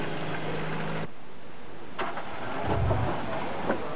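A 4x4 engine idles low, then cuts out abruptly and falls quiet, followed by faint clicks and a brief low rumble as it tries to catch again.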